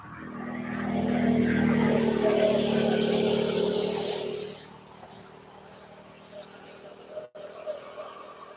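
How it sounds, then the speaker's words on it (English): Ryanair airliner coming in to land at East Midlands Airport, a loud engine roar with a whining tone that builds and then cuts away sharply midway, leaving a faint hum afterward. "there's the Ryanair coming in behind"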